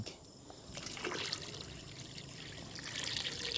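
Water trickles steadily into a pot of sautéed squash cooked in shrimp drippings at an outdoor motocamping site, a continuous close pour that swells slightly toward the end, with no talking.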